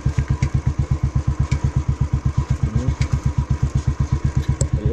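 Motorcycle climbing a rocky hill at Kootagal Thimmappana Betta near Ramanagara, its engine thumping in a fast, steady, close rhythm under load with some rattling, no talk.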